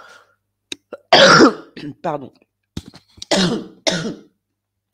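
Someone clears their throat and coughs several times close to the microphone, in short harsh bursts between brief spoken words.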